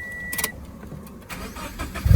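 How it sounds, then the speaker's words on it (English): A Subaru BRZ/Toyota FRS with an FA20 boxer engine, belly pan off after a spark plug change, cranks over and catches, the close, rough engine noise swelling louder toward the end. "I'm gonna go ahead and try to start it up."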